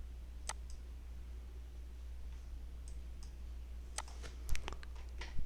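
Mouse clicks opening a file on a computer, a quick pair of sharp clicks near the start and more clicks later, close and clear over a steady low hum.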